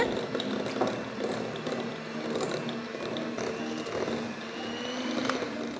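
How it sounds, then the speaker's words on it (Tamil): An electric mixer beats unsalted butter in a large bowl, a steady whirring motor with rattling and scraping against the bowl that carries on throughout at moderate level. "வெண்ணெயை நல்லா பீட் பண்ணுங்க"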